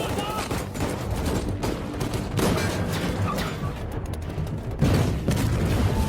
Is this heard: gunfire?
yes